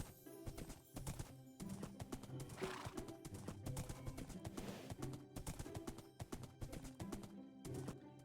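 Minecraft horse hooves clop in a quick, continuous rhythm, mixed with neighs and whinnies in a video game. The sound is busy and close throughout, with no talking.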